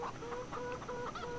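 Several chickens cluck in short, repeated phrases in a farm game, forming a continuous, fairly faint chorus with no talk over it.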